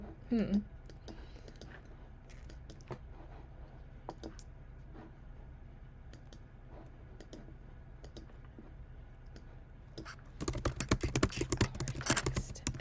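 Computer keyboard typing, light scattered key clicks under a soft steady hum, close and quiet, with a denser flurry of clicks near the end and a person speaking.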